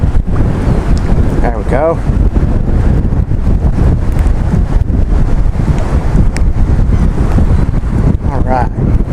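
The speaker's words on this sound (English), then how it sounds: "On this crazy windy day, with this micro rod, we're still catching fish." Heavy wind buffeting the microphone on a lake while bass fishing with a micro rod, a loud continuous roar with gusts, and people talking briefly over it.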